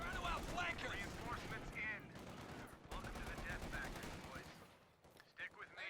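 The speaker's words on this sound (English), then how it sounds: "we have the 50 cal versus MG42 standoff" Two machine guns, a .50 cal and an MG42 in Company of Heroes 2, trade sustained bursts of fire in a dense, continuous rattle that runs under a commentator's voice.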